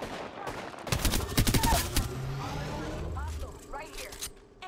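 Gunfire in the battle royale shooter Apex Legends, a dense burst of rapid automatic shots followed by scattered distant cracks and shell-like clinks, with game voice callouts over the top.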